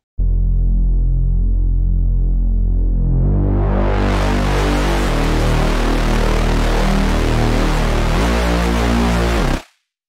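A deep, thick Reese bass synthesized in Vital throbs continuously as a drone, its tone brightening and growing buzzier partway through before cutting off abruptly at the end.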